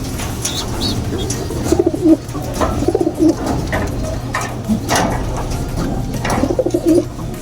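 Breeder racing pigeons coo in soft, repeated throaty bursts close by, over a low background hum.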